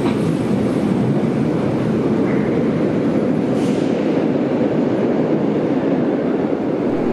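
A Berlin U-Bahn U55 subway train pulls out of an underground station, a loud steady rumble and roar of wheels and motors filling the whole stretch, with a faint brief squeal partway through.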